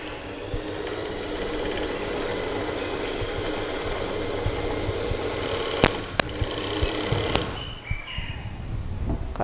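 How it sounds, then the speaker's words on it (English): An overlock machine sews and trims the edge of a pair of shorts, a continuous close mechanical whirring hum with a few sharp clicks near the end before it stops. "And overlock the edge."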